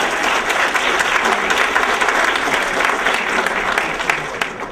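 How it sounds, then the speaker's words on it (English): Sustained applause from an audience at a spiritual satsang gathering, dense and steady throughout, with a faint crowd murmur beneath. "give a round, warm applause to the people that arrived here at 6:30"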